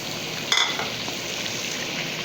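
Onions fry in hot oil for a tadka, a steady, soft sizzle with a brief sharper crackle early on, close and without any voices.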